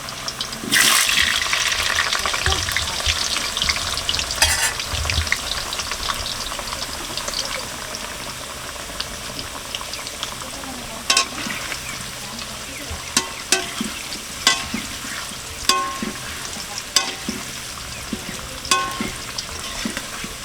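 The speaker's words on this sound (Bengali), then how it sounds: "আলু ভাজা হয়ে গেছে এখন আলুটা তুলে নেব" Potatoes fry in a pan for a homemade chicken stew, a steady close sizzle and crackle running throughout with occasional louder spits and pops, no talking.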